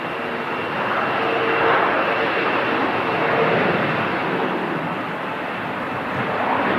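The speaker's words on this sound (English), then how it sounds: "the BizJet's gone up first." Business jet taking off at Manchester Airport, a broad steady jet rumble with a faint whine, moderately loud and distant, swelling slightly and holding throughout.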